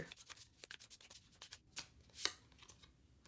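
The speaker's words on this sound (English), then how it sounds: "I'm just going to start shuffling and pull the cards" A pocket edition tarot card deck being shuffled by hand, heard as a close, soft run of brisk papery riffles and slides with a few sharper flicks, alone without talk.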